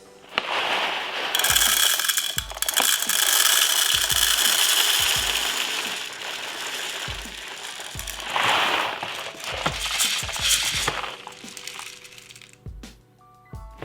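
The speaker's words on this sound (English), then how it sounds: "So now it's time to fill the drum mag" An airsoft PPSh-41 drum magazine is wound and filled, giving close, loud ratcheting clicks in steady runs with a few short breaks and no talking.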